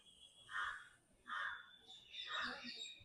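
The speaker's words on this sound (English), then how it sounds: "I can hear the crow sound." Three harsh caws from a crow, evenly spaced about a second apart, moderately close and clear over a quiet background.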